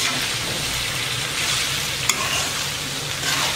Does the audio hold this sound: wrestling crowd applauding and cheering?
no